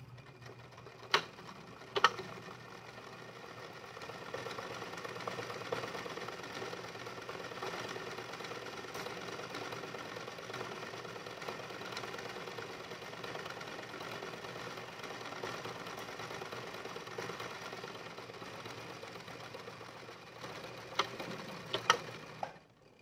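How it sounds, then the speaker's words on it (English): A sewing machine runs steadily at low volume, straight stitching a pinned side seam at 5/8 inch, with a continuous even hum and a few faint clicks near the start and end. "we're going to line up this side seam, pin it, and we're going to straight stitch at 5/8 inch"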